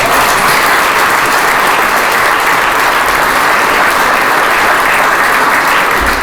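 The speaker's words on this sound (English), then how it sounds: "Please, let's give Senator Susan Wago a round of applause." Loud, sustained applause fills the Kansas Senate chamber for Senator Susan Wagle, steady clapping from many hands continuing evenly without pause.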